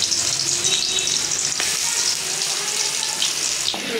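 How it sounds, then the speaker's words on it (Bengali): Potatoes dropped into hot oil fry with a loud, dense sizzle that holds steady throughout, close up with a few faint clinks and no talking. "তেলটা গরম হয়ে গেছে, আলু দিয়ে দিলাম।"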